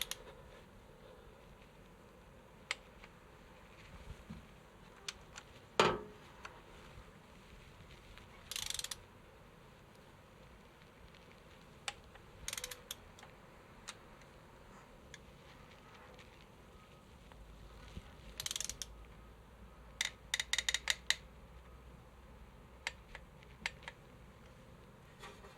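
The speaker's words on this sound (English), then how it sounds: "just going to torque these to 32" A torque wrench tightens the fuel injector bolts on a Holden Colorado, with faint scattered ratchet clicks and short metallic mechanism bursts spaced irregularly across a quiet workshop background, no talking.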